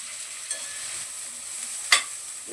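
A ground mix of green chili, garlic, cumin and peanuts fries with coriander in hot oil, giving a gentle, close sizzle with light stirring scrapes and a sharp utensil clink partway through; no voices.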